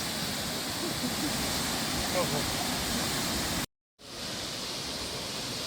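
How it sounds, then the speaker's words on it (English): Ouzoud Falls in Morocco, Africa's second highest waterfall, roars as a steady broadband wash of falling water, loud and continuous, cut by a brief silent gap near the end before the rushing resumes. "The second highest waterfall in Africa, he said, after Victoria Falls."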